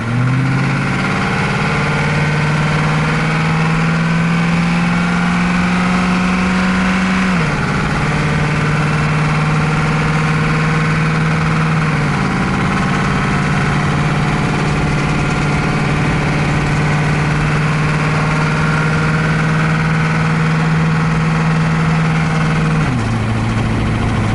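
A diesel van's engine runs steadily while driving, a loud continuous drone whose pitch holds, then drops sharply at several points as gears change, with road and wind noise beneath.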